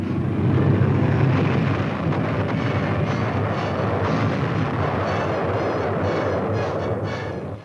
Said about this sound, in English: Fixed-wing light aircraft also perform a number of important jobs.